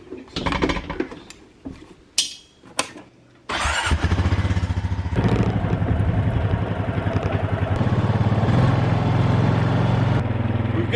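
A farm ATV with a slow-leaking tire cranks with clattering bursts, then its engine catches and runs at a steady, loud, buzzing idle close by.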